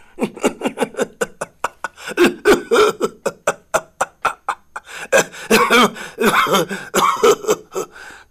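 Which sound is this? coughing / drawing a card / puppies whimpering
coughing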